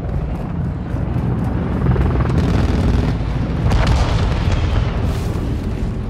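Mortar strike explosions rumble in Call of Duty: Modern Warfare II, deep booming impacts layered over a continuous roar of battle noise, with a few sharper blasts standing out.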